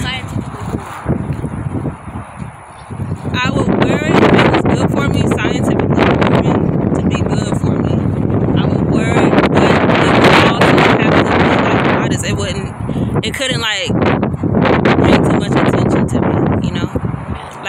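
Strong wind buffets the microphone in loud, continuous gusts, roaring almost the whole time with a voice faintly underneath.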